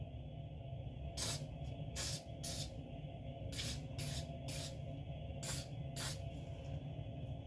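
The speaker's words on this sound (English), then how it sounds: "Go ahead and give this a spray as well." Short hissing bursts of an aerosol cleaner sprayed on a Kimber 1911 pistol, about nine quick sprays in irregular pairs and singles, close up over a quiet background hum.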